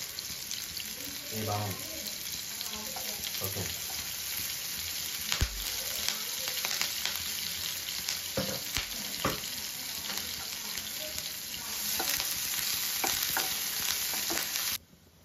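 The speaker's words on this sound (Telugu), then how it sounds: "ముందు కట్ చేసుకున్న ఆనియన్స్, పచ్చిమిర్చి గోల్డెన్ కలర్ వచ్చే వరకు ఫ్రై చేసుకోవాలి." Onions and green chillies fry in oil in a pan, a steady hiss of sizzling with occasional stirring clatter and scraping, running continuously and growing louder near the end before cutting off.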